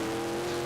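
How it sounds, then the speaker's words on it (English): Onboard engine roar from a stock race car in a 2001 USAR Hooters Pro Cup Series race at USA International, a steady loud drone with a strong sustained engine tone and no talk. "from on board Buggy Fletcher's car."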